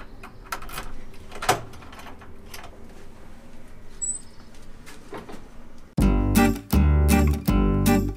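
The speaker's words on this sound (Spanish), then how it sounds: "Voy a abrir la puerta." A key turns and a heavy old door of a monolithic church in Saint-Émilion is opened, with faint clicks and scrapes of the lock, then loud rumbling and grinding bursts as the door moves near the end.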